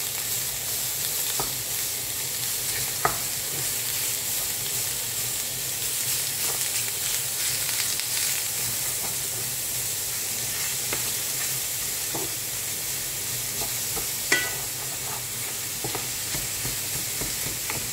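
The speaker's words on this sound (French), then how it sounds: "Et je fais revenir le bœuf." Ground beef browning in a pan for tex-mex penne, a constant close sizzle with occasional utensil scrapes and two sharper knocks, no talking.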